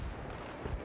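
Gunfire in Battlefield 3, a short burst of low booming shots within under a second, fairly muffled against steady background game noise.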